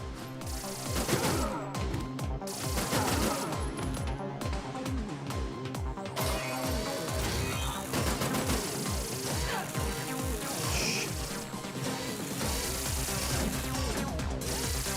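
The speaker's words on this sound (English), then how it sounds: "Fucking hate these cannons so goddamn much." Cannon blasts and gunfire in the Terminator 2D: No Fate video game, a dense run of rapid booming shots and crashes that keeps going the whole time over a loud game soundtrack.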